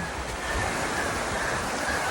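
River water rushes in a continuous loud roar during a river crossing, a close, broad wash of flowing current that holds steady throughout with no voices.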